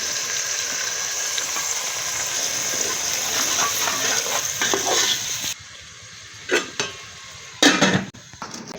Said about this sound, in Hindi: अब हम टमाटरों को डाल रहे हैं।